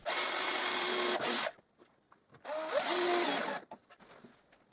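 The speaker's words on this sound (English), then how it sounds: "I mark where to drive the first screw, and I drive the first screw" A drill drives a screw into a plywood drill press table in two loud, close whirring bursts separated by a short quiet gap, with faint handling clicks after each burst.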